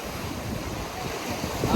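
Ocean waves rolling onto a white sand beach during island hopping off Sulu, a steady wash of surf mixed with wind buffeting the microphone, moderately loud and without speech.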